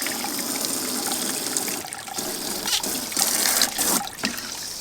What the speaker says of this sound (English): I have my Gold Hog sluice running Dream Mat micro cell to do the cleanup with.